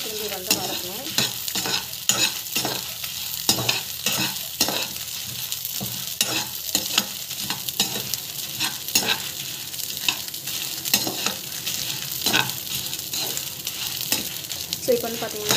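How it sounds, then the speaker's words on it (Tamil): Ingredients are sautéed in a pan with rock salt, and a spatula scrapes and taps in a quick, regular rhythm over a constant sizzle. The sound is close and fairly loud, lasts about fifteen seconds and has no talking. "ஆட் பண்ணிவிட்டு திரும்பி வந்து வதக்கணும்."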